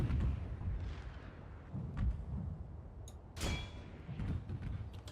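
Artillery barrage firing in the Fall of the Samurai war game, with several deep booming shots and rumbling impacts spread out in an irregular rhythm, one sharper, louder blast near the middle, no talk.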